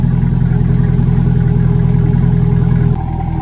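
A C8 Corvette fitted with an MBRP cat-back exhaust idles with a loud, steady, deep rumble up close, dipping slightly in level near the end, with no talking.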